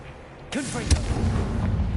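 A single sharp, booming blast from the Confringo fire spell in Hogwarts Legacy on PS5, bursting out suddenly and ringing into a rumbling tail, with a voice calling the spell's name over it.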